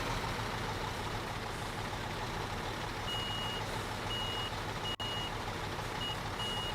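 A truck's reversing alarm beeping at a steady interval over a low idling diesel engine in Construction Simulator 2015, moderately close and continuous, with no talking.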